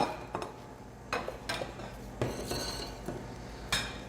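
Potatoes being mixed in a dish with a utensil, irregular scraping and clinking knocks against the bowl at a loose rhythm, close and moderately loud with no talking.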